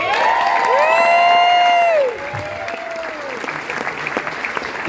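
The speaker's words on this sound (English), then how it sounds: "Let's have a huge round of applause for Jamie for making it through this fight w" Crowd at an award ceremony during a boat show bursts into loud applause with whoops and high cheering shouts for two seconds, then the clapping thins into a lighter, scattered patter.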